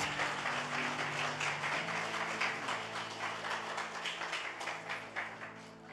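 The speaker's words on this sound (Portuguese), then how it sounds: "Aplauda o Senhor mais forte, amado." A church congregation claps in worship, a soft, distant, continuous patter of many hands with a faint tonal hum underneath.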